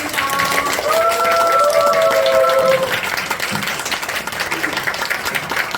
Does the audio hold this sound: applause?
yes